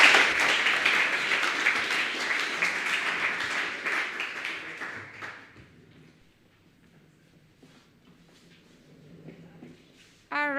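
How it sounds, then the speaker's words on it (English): Audience applause at a startup demo day fills the first five seconds with dense clapping, then fades to scattered claps and near quiet before a voice returns at the end. "a big applause for the Food Angels"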